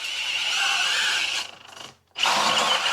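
A cordless drill whines at high speed while boring through metal on a 1971 Cutlass firewall, bogs down and cuts out briefly, then spins back up loudly.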